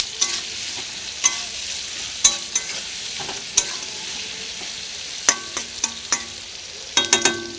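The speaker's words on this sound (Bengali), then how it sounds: "ভালো করে পেঁয়াজটাকে আগে ভেজে নেব" Onion fries in oil with a constant close sizzle, broken by repeated sharp metallic clinks and scrapes from stirring in the pan. No one speaks.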